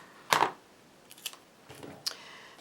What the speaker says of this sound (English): They're heavy-duty scissors, but they don't cut the rest very well.